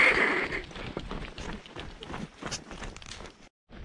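Footsteps walking along a path in a rural village in Georgia, a steady run of crunching steps close by with a busy outdoor background.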